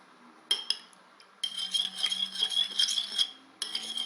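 A utensil stirs and scrapes water and dish soap inside a bowl in quick bursts, with light clinks and rattles at close range; no talking.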